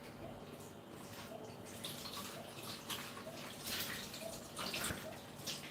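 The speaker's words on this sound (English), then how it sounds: "still I'm going to rinse it" Tap water runs steadily and faintly as a mixing bowl is rinsed in a kitchen during cake baking, with soft splashes and gurgles over a constant low hum.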